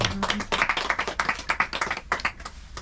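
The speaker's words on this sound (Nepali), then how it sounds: "हामी उहाँलाई ताली बजाएर स्वागत गरौँ है।" A small home fellowship gathering at Gaighat claps to welcome a guest pastor, giving a few seconds of close, lively, uneven applause from a modest group.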